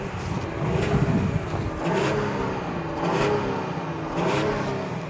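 A 2025 Lincoln Aviator engine revving in a few rising and falling swells, a steady moderate drone with periodic surges and no voices.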